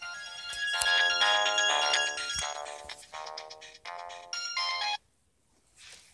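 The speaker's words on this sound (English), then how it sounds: "The phone's ringing." A phone ringing with a bright electronic ringtone, loud and close, a repeating melodic pattern that cuts off abruptly, leaving near silence.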